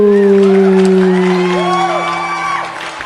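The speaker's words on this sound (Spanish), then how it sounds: "recibamos con un fuerte aplauso a Jenny Cuervo" A crowd greets a speaker at a public event with loud, close whoops, sustained shouts and cheering, rising and falling in pitch over a bed of crowd noise, with only faint clapping beneath.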